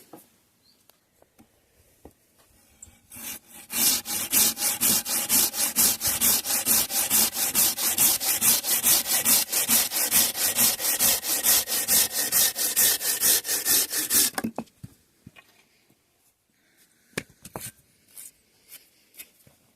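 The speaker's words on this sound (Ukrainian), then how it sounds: "спробуємо тепер, як воно буде пиляти" A hand saw with freshly set teeth cuts through wood in fast, even back-and-forth strokes for about ten seconds, close and crisp, followed by a few light taps.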